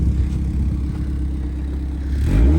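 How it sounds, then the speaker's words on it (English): A Mazdaspeed Miata engine rumbles low and steady at idle, then swells into a short, gentle rev near the end, heard up close with no voices. "Get it a little baby rev."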